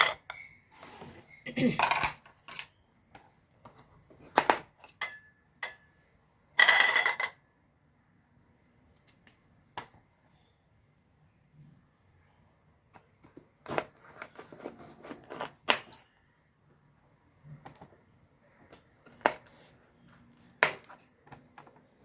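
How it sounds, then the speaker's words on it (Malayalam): A knife cuts bitter gourd on a board in a home kitchen, giving scattered sharp chopping taps in short bursts separated by quiet gaps. "ഇനി കയപ്പയ്ക്ക് നമുക്കൊന്ന് മുറിച്ചെടുക്കാം"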